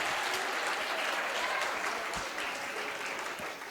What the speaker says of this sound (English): Should you not clap hard once for this